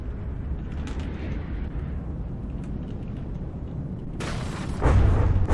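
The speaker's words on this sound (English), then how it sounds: "Ooh, wow. Internal explosions there." Internal explosions aboard a warship in the video game From the Depths, a low rumbling, creaking background building to a sudden loud, crackling blast near the end with a deep boom.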